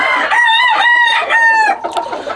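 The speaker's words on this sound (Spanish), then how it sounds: "me gusta mucho este tipo de gallo, giro negro" A giro negro gamecock crows loudly and close, a full drawn-out cock-a-doodle-doo with a rising start and sustained middle, ending in a brief clucking trail.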